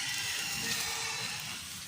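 Heavy rain falls steadily over a field where weeds are being pulled from soft soil, a dense broadband hiss that holds strong and close throughout with no voices.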